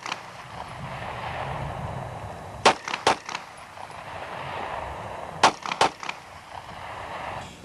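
Pistol fired at 20 feet in a sequence of paired shots: two sharp, loud double reports, each pair closely spaced, separated by a few seconds of low background hum, no talking.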